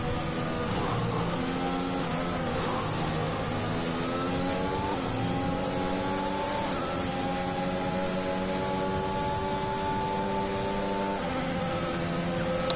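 Formula racing cars in a video game race at Great Britain, a McLaren chasing a Mercedes, their high-pitched engines whining and shifting pitch continuously as they scream past, loud and sustained throughout.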